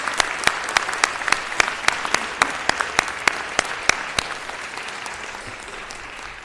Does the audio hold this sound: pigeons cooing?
no